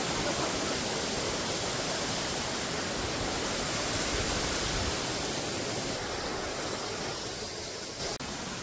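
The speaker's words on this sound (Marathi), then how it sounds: "हे असं छोटंसं पाणी वाहते आणि त्यालाच तर धबधबा म्हणतात" A small waterfall running between two hills in the Sahyadri range, a steady close rush of water, loud and unbroken, with no voices.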